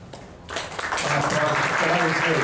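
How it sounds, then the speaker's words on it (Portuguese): Audience applause at a literary conversation event in Brazil with poet Carlos Nejar, swelling from a few scattered claps into dense, steady clapping that fills the room. "Um aplauso para o Nejá"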